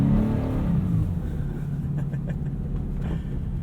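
A Subaru BRZ driving through snow on winter tires, its engine giving a steady mid-pitched drone and rumble with a rev rise at the start, heard from inside or near the car without talk.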